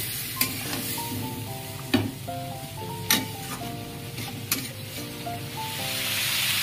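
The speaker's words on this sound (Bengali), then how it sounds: "সব মশলা দিয়ে সবজিটাকে খুব ভালো করে কষিয়ে নেব।" Vegetables cooking down with spices in a pan: a steady sizzle under repeated spatula scrapes and knocks, with a soft tonal hum running beneath and no one talking.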